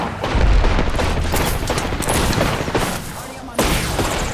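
Gunfire in the video game Apex Legends: dense, continuous bursts of shots and impacts rattle throughout, with a sharp louder burst near the end, loud and close, while a voice speaks briefly underneath.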